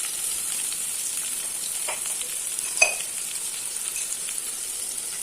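Onions sautéing in a pan with a pinch of salt, a steady soft sizzle with a brief stir or scrape near the middle, no talking.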